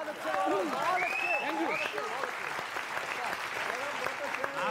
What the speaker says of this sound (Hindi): ताली बजाओ एक बार जोर से।